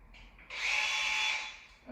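A power drill runs close by for about a second, driving screws into the motor of a ceiling fan. The whine starts abruptly, holds steady and high-pitched, then tapers off.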